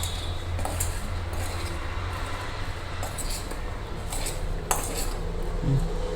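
Salt and spices being mixed into soya paneer biryani rice in a pot, with a spoon scraping and clinking steadily against the metal under a low constant background hum.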